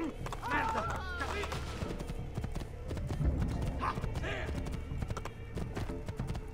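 Horse hooves clip-clop steadily in Assassin's Creed 2, a close, continuous trot under a busy game soundscape with a brief whinny and some talking.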